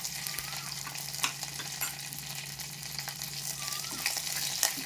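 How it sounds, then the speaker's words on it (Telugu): Mustard seeds, curry leaves and dry red chillies fry in hot oil for a buttermilk tempering, with a steady close sizzle, light crackling pops and occasional stirring scrapes. "ఆవాలు చిట్లతాండాయి, కరివేపాకు వేసేద్దాము"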